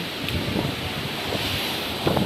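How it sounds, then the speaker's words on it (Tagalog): Strong typhoon wind rushes steadily and roars across the microphone, a continuous dense blast with a few louder gusts and no voices. "O, kung nakikita nyo, sobrang lakas pa ng hangin."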